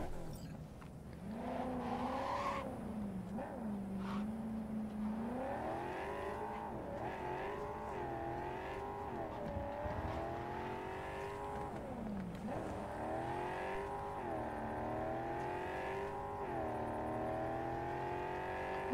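Car engine in the Cyberpunk video game revving and shifting pitch continuously as it drives, steady and fairly loud throughout with no talking.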